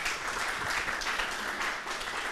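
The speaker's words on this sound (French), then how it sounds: "Ça peut s'applaudir." Audience applause at a youth expression event during holidays in the communes of Plateau and Koumassi, a steady dense wash of clapping that holds evenly for a couple of seconds.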